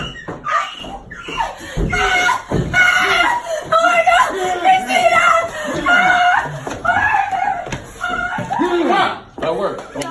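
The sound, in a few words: woman screaming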